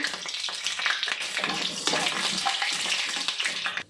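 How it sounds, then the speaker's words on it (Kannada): Moong dal and chana dal frying in a pan, a dense continuous sizzle and crackle with small scraping stirs, close and fairly quiet, with no talking. "ಸ್ವಲ್ಪ ಹೆಸರುಬೇಳೆ, ಸ್ವಲ್ಪ ಕಡಲೆಬೇಳೆ ನೀಟಾಗಿ ಫ್ರೈ ಮಾಡ್ಕೊಳ್ಳೋಣ."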